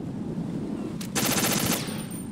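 Rapid automatic gunfire from the video game Metal Gear Solid 2 bursts in loud and close for under a second, a dense rattling volley over a steady low game hum.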